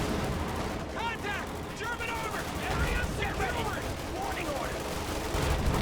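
Machine guns, Thompson submachine guns and rifles fire in a Company of Heroes 2 battle against a Panzer IV, a steady dense crackle of small-arms gunfire with busy battle noise throughout, no voice over it.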